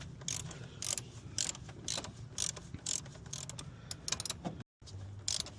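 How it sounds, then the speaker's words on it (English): Ratchet wrench turned counterclockwise during a thermostat replacement on a 2007 Chrysler Pacifica, giving a steady run of close, quick clicking strokes with a brief gap near the end. "you're gonna go counterclockwise with the ratchet"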